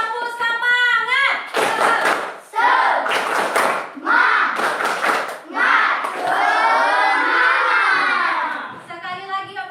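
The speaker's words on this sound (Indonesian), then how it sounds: "Kita tepuk semangat dulu." Schoolchildren in a fifth-grade class performing the rhythmic tepuk semangat spirit clap, bursts of loud group clapping alternating with shouted chanting voices, ending with the teacher speaking.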